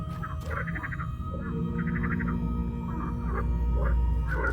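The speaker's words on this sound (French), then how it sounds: "les grenouilles qui te causent comme ça" Frogs croaking in the video game Carimara, short clusters of rapid, bubbly croaks repeating every second or so over a steady low ambient drone, fairly close and clear, with no talking.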